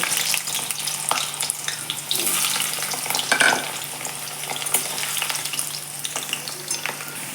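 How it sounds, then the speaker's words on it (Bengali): Potatoes fry in hot oil in a wok with a steady, close sizzle and occasional stirring scrapes throughout, with no talking. "তেলটা গরম হয়ে গেলে তার মধ্যে আলুগুলো দিয়ে ভেজে নেব"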